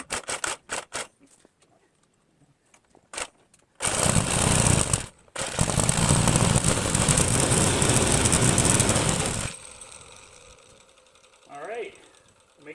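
A small gas engine on a mini bike is pull-started: a few short rope-pull rattles, then it catches and runs loudly with a buzzing, rough idle for several seconds before cutting out, leaving quieter noise.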